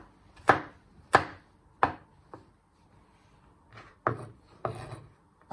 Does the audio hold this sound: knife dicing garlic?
yes